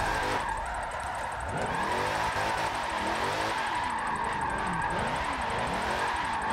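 A minivan on street tires drifts and slides along a street, its engine droning steadily with rising and falling revs, close and continuous throughout, with no voices.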